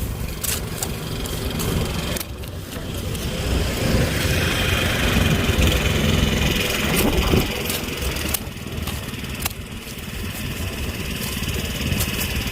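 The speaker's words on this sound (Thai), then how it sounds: "ได้ยินไหมคะเสียง ตึ๊ดตึ๊ดเสียงรถไถ มาไถสวน" A tractor ploughs a garden plot, its engine chugging in a steady mid-pitched drone that carries on throughout at moderate distance with some faint background noise.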